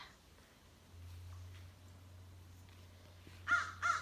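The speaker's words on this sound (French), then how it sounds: "Et aussi la corneille." A crow caws twice near the end, sharp and fairly close, over a quiet garden background with a low steady hum.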